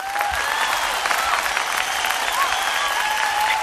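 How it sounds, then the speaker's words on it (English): Audience applause rises for a guest introduced on a fitness talk show, a dense, steady clapping that holds loud and close for the whole stretch. "Clap it up."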